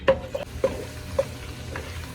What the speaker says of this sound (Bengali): এখন আবারও হালকা একটু ভাইজা নিতেছে সবকিছু।